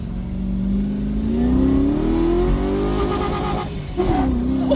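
Converted car with a fuel cell accelerating on a drive, a loud close engine note rising in pitch through the gears with a brief dip and renewed revving near the end.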